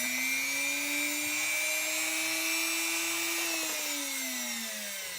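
A drill bores evenly spaced holes in an axe mask, its steady, loud motor whine running close and unbroken before the pitch sags slightly near the end.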